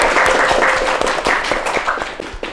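Clapping from a group at a medical CPR training session, a short burst of fairly loud, uneven claps following a correct answer, with a few separate sharp claps standing out near the end.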